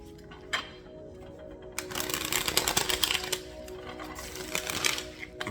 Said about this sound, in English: so the cards when they shuffle